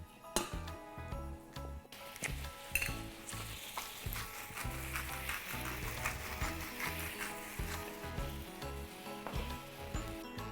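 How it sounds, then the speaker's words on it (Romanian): Starchy pasta cooking water hitting hot oil in a pan bursts into loud, continuous sizzling and crackling, with occasional stirring and utensil clinks, no talking. "Luăm puțin și punem în uleiul nostru încins."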